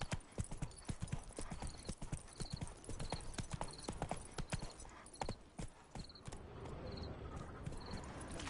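Horse hooves clip-clop in a quick, steady rhythm in The Witcher 3, up close and prominent, with faint insect chirps in the background.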